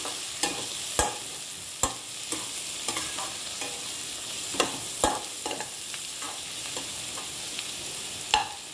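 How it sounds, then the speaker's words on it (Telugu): Beans and mixed vegetables fry in a pan with a soft steady sizzle, broken by sharp scraping clicks as a spoon stirs them every second or so, close and clear with no voices. "మనం బీన్స్ అవి వేసిన తర్వాత కొంచెం వేయించాలి"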